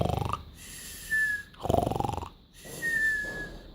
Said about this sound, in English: Goofy was snoring so loud that the windows were rattling.